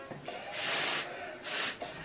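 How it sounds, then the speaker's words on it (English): Two long hissing bursts of aerosol dry texture hair spray, each about half a second, close and fairly loud, with a short pause between them. "gonna go in with this dry texture spray."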